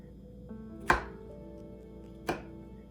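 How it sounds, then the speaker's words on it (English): Two sharp knife chops cut through trimmed mushrooms on a cutting board, close and distinct, with a quiet pause between them. "So now I'm going to take this mushroom. I trimmed the stem. I'm just going to slice them down."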